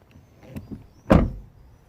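Ford Focus 1.6 driver's door: a couple of soft latch clicks, then one solid, close slam of the door shutting.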